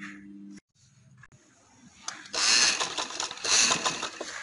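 A sewing machine stitches maroon trouser fabric, starting after some soft handling noises and then whirring in two close, fairly loud bursts.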